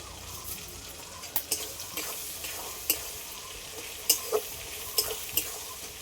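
A ground spice paste with turmeric and a little sugar fries and is stirred in a pan, giving a steady soft sizzle broken by sharp scraping and clinking strokes of a utensil at uneven intervals, close up and with no talking.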